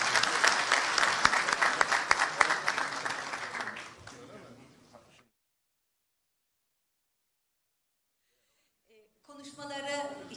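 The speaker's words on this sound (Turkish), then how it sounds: "bir kez daha alkışlar mıyız?" Audience applause at a CHP economy panel event in Tekirdağ, dense and fairly loud for about four seconds before fading into silence, with a voice returning near the end.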